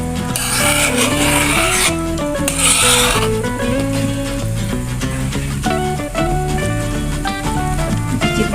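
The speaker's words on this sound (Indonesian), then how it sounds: "Aduk-aduk terus ya Bunda" Jackfruit curry (gulai nangka) is stirred in a pan, making two short bursts of rasping scraping near the start, heard over steady background music.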